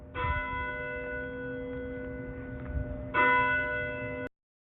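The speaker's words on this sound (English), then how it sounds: "I heard the ring of the church bells." Church bells ring out with sustained, resonant tones, one peal fading into a fresh louder strike near the end, clear and alone with no voices.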